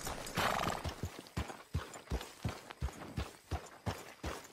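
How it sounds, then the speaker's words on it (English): Horse hooves clip-clopping at a steady walking rhythm in the Red Dead Redemption 2 video game, close and clear, with a brief whinny near the start and almost no talk. "Arthur, get that horse all right, out of here."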